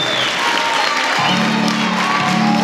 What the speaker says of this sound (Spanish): Un fuerte aplauso para nuestra séptima región